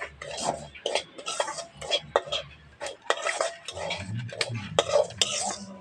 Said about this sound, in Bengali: সুজিটা একটু হালকা করে ভেজে নেবো।